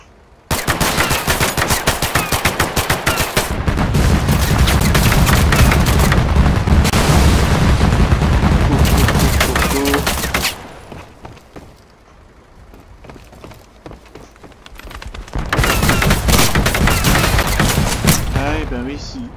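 Sustained bursts of rapid automatic gunfire and booms from the tactical shooter game Total Conflict Resistance, loud and dense for about ten seconds, then a quieter stretch before another heavy volley of shooting.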